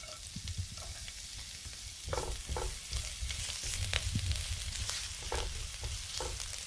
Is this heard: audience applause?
no